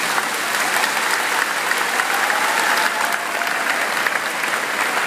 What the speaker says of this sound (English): I think they deserve a very big round of applause.